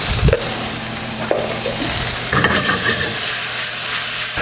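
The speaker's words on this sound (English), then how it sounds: "I'm also gonna go ahead and add in a couple of teaspoons of garlic as well, right into our sauce" Garlic added to a basil pesto sauce sizzles steadily in a pan, with stirring scrapes and brief clatters over a constant close frying hiss.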